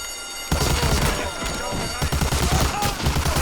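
Rapid bursts of gunfire in the video game Medal of Honor: Allied Assault crackle in quick succession, loud and close, with a dense, continuous volley of shots filling the clip.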